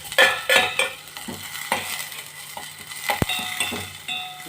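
Garlic and chili fry in butter in a pan, giving a soft sizzle under repeated scrapes and clinks of a spoon stirring against metal, close up.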